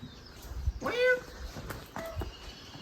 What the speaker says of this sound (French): This kitten's in a cage.